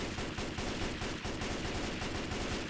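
An M16 rifle fires in rapid, continuous bursts in Left 4 Dead 2, with dense, steady, loud gunfire filling the whole stretch and no talking.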